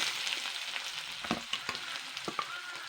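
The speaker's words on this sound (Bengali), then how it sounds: "হালকা করে লাল করে ভেজে নেব আগে" Chopped onions and dry red chilli fry in hot oil in a pan with a steady soft sizzle, broken by a few close scraping taps as they are stirred.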